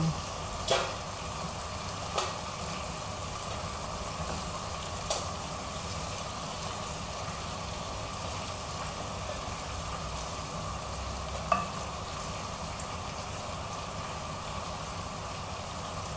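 Shrimp sautéing in a pan with tomato and onion, stirred now and then: a low, steady sizzle runs throughout with a few sharp utensil taps scattered across it, no one speaking.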